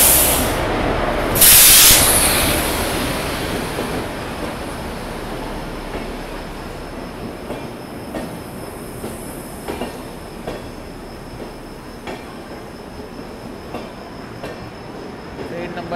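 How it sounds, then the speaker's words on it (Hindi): A Hazrat Nizamuddin–Thiruvananthapuram superfast express hauled by a WAP-4 locomotive arrives at platform 5 after a long delay, with a loud hiss near the start, then steady rumbling and faint rhythmic wheel clicks on the rails. "पूरे 2 घंटे 10 मिनट के डिले के साथ हमारी जो है ट्रेन का अराइवल हो रहा है"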